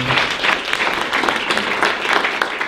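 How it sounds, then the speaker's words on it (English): A room of about 75 people at a dinner event claps for the server, a steady, moderately loud round of applause with no talking. "let's give her a round of applause"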